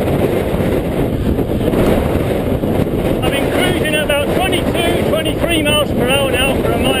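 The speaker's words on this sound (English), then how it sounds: "Our crosswind is very strong." Strong crosswind buffeting a cyclist's microphone on the Blackstone Edge climb, a loud, constant low roar of wind noise, with someone talking over it partway through.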